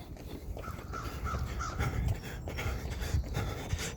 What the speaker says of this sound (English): It's amazing how the birds wake up so early every day to search for food, water,